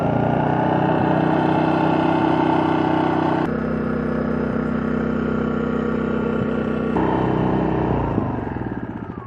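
A Maxpeedingrods 3500 watt inverter generator, eco switch off, runs steadily and close at a raised idle, its engine hum shifting pitch a couple of times with a brief clatter near the end.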